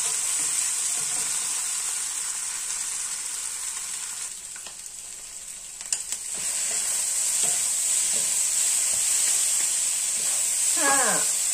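Food is stir-fried in a pan with a loud, continuous hissing sizzle, broken by occasional scrapes and clinks of a utensil stirring close by.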